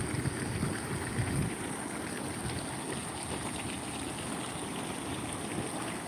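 Water from a farm pond gushes steadily out through a discharge pipe, a continuous broadband rushing and splashing that stays loud and even throughout, with no voices.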